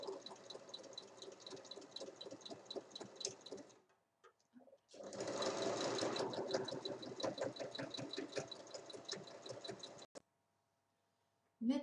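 A sewing machine joins the top and bottom fabric pieces of a drawstring pouch, right sides together, across the full width. Rapid steady stitching runs close and clear, pauses briefly, resumes, then stops.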